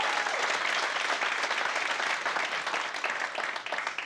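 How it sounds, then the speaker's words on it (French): Loud, dense audience applause at a comedy show, a steady wash of many hands clapping throughout with no voices over it. "Hey, on peut-tu leur donner une bonne main d'applaudissements?"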